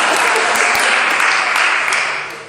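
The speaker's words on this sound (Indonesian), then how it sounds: "Tepuk tangan." Congregation applauding during a church sermon, a brief burst of dense clapping with a few sharper individual claps standing out, loud and close, tapering off at the end.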